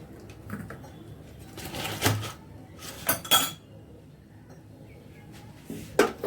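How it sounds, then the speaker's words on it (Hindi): Metal spoon clinking against a bowl while butter is scooped out in a home kitchen, several light scrapes and taps with brighter knocks near the start, middle and end, close and alone. "मैं इसको थोड़ा सा चम्मच से निकाल कर कटोरी में और गैस पर रखकर पिघाल दूंगी"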